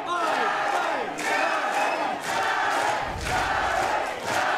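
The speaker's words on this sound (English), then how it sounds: "You can hear the crowd there" Crowd at a kickboxing fight, a large audience chanting and cheering in repeated rhythmic swells, loud and continuous in an indoor venue.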